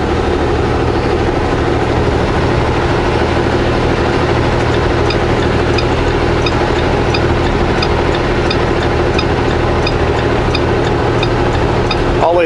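Cummins-engined truck climbing the Smasher grade on the highway, its diesel a loud steady low rumble throughout from inside the cab, with faint rhythmic ticking layered above.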